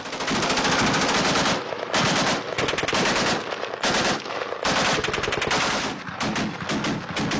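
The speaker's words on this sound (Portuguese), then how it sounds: "O outro soldado continua atirando." Sustained automatic gunfire from a soldier in Syrian war footage, loud rapid bursts of machine-gun shots rattling almost continuously with brief gaps between volleys.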